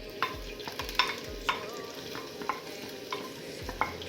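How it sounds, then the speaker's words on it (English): Onions fry in hot oil with a continuous close sizzle, while a utensil stirs them with repeated scrapes and taps against the pot at an irregular rhythm, and no voice is heard. "So we fry the onions until they're golden brown."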